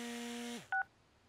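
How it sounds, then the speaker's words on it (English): A cartoon cell phone gives one short, clear dialing beep that follows a sustained electronic tone sliding downward. The sounds are faint and isolated, with no talk. "It's Love's mighty cell phone"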